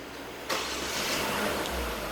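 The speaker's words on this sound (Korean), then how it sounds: "시동 한번 걸어볼게요" A Genesis G80 engine fires up after a sharp start, settling into a steady mid-pitched idle with a slight rise in low rumble near the end, close and alone without talk.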